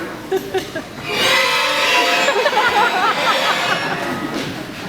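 Beginner school student band playing poorly at the start of the year, a loud, dense and ragged wash of mixed instrument tones that swells after the first second and stays sustained and messy throughout.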